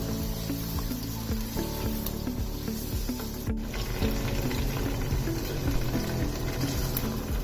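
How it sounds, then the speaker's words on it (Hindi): Half a kilo of mutton frying in a pan for palak gosht, giving a steady close sizzle and bubbling with a brief clatter of stirring, and no talk. "यहाँ पे आधा किलो गोश्त लिया था मैंने, और इसको हम फ्राई कर लेंगे अच्छे से"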